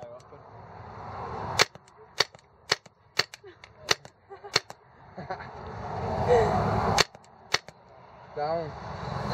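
Target shooting in Turkey produces a scattered series of sharp, snappy shots, about a dozen in nine seconds with irregular gaps, close and fairly loud, while people talk in the background between them.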